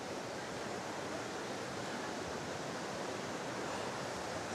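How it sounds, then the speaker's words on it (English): Waterfall in Tasmania pouring steadily, a dense continuous roar of rushing water that stays loud and even from start to finish, with no talk over it. "These waterfalls."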